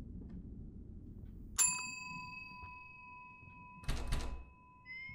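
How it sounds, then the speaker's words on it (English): Bell chimes in a video game ring out, two clear struck tones with long ringing decays, heard alone over a low steady background hum. "The bell has been rung 8 times."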